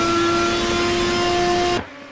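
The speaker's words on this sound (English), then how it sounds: "The noises of that car is just amazing." An Audi R18 LMP1 race car in the Project CARS racing game drones with a high, steady engine whine and strong tonal pitch for nearly two seconds, then abruptly drops away.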